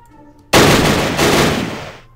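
A loud burst of gunfire in the WW2 strategy game Battle Academy breaks sharply out of quiet, then rolls on as a dense rattling volley that slowly fades over about a second and a half.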